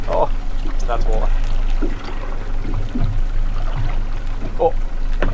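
Water pours and splashes aboard a fishing boat working around fish aggregating devices offshore, a steady trickling wash under several people talking close by.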